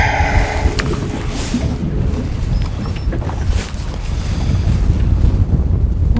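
Strong wind gusts roar steadily outdoors near a dock and open water, with heavy buffeting across the microphone and faint wave wash beneath, loud and continuous throughout.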